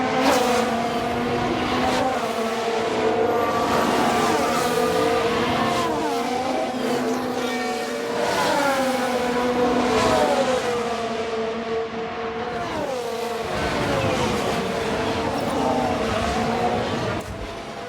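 Race cars in F1 Manager 2022 spin out, their engines whining loudly and steadily as the pitch sweeps up and down amid skidding, with no voices.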